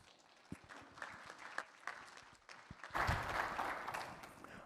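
Scattered claps build into steady audience applause at a tech conference talk, swelling in the last couple of seconds, fairly distant and soft.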